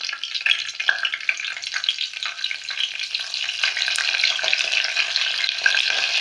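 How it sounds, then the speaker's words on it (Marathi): Curry leaves go into hot oil already holding mustard seeds and cumin for a garlic-tempered dal: dense, close crackling sizzle with sharp spitting pops, loud and continuous throughout. "मोहरी आणि जिरे टाकल्यानंतर आपण याच्यामध्ये आता कढीपत्ता टाकून घेणार आहोत"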